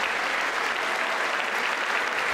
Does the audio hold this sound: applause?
yes